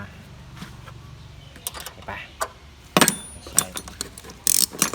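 Metal nut threaded and tightened onto a battery terminal of a 2010 Ford Fiesta 1.6S, heard as close ratchet-like clicks and clinks that grow sharper toward the end, with a faint murmur beneath.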